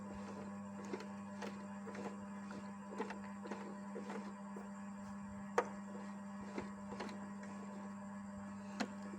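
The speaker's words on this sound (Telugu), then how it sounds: "ఫస్ట్ 2 హోల్స్లో నేను బటన్ కుడుతున్నాను" A small sewing machine stitching a button, heard as a faint steady electric hum with light regular ticking of the needle and occasional sharper clicks, no talk.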